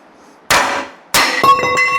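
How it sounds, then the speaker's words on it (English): Hammer blows on steel front suspension parts of a Jeep CJ5 during a CJ5-to-CJ6 build: a single ringing metallic clang, then a second strike followed by quick ringing taps, loud and close. "Hammer time."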